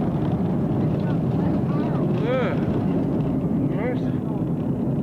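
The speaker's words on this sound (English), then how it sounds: "Reversing the thrusters," A Boeing 737 airliner roaring on reverse thrust just after landing, a loud steady jet rumble filling the cabin with a brief whining tone rising through it, as people talk over the noise.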